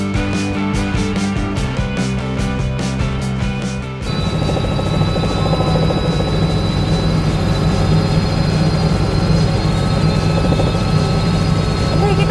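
Helicopter in flight, heard from inside the cabin during a ride: a loud, constant engine and rotor drone with a low, steady hum that persists throughout.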